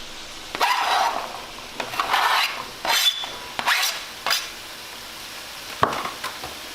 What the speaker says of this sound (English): I'm just going to stir that up a little bit. And while my hamburger is cooking